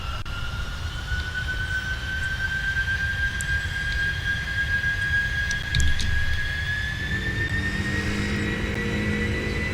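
Jet engines of a heavily loaded Boeing 747 at takeoff thrust on a runway, a loud steady roar with a rising whine throughout, heard from inside without talk.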